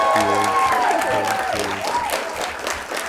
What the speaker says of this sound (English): could we get more of a round of applause?